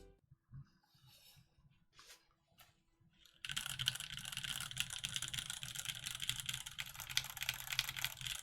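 Clacky keystrokes from a Crin mechanical keyboard by Bachoo come in a dense, continuous run of rapid typing, close and fairly loud. A few sparse, quieter clicks come first.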